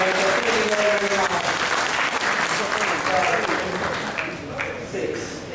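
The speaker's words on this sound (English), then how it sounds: "I think Hamid deserves a round of applause" Audience applause at a fundraising dinner, loud and sustained clapping from a full room with some voices mixed in, tapering slightly toward the end.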